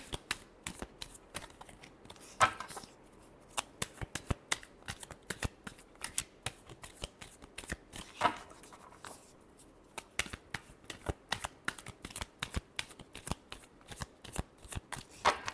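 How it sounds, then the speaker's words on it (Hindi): Tarot cards are shuffled by hand in a run of quick, crisp riffles and flicks, close and fairly quiet, with short pauses between bursts and no talking. "लास्ट शफल, एक और शफल लगेगी, कार्ड निकलना नहीं चाह रहे।"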